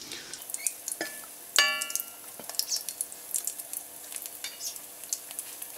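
Breaded KFC-style chicken popcorn deep-frying in oil, with a soft steady sizzle under scattered clinks and scrapes of utensils and cookware nearby.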